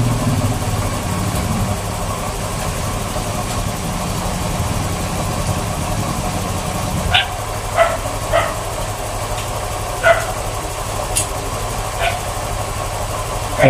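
A Honda Click scooter engine idles steadily and close by after an idle-screw adjustment, a constant low rumble with a few faint clicks and taps over it; no one talks.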